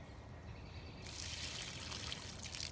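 A faint outdoor trickle of water poured from a bottle onto the base of pine trees, starting about a second in and running steadily to the end with no talking.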